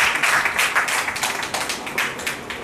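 Audience applauding at a political gathering in Telangana, many hands clapping in a dense, continuous burst that holds steady throughout.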